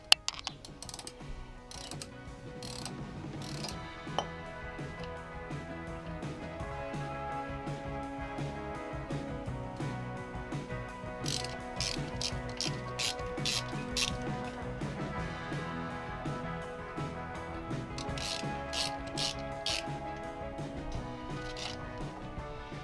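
Mechanical clicking and ratcheting from a seized pin on the rear brake master cylinder of a Suzuki GS550 motorcycle being forced to turn, a steady run of close, small metallic clicks and grinding with sharper taps throughout.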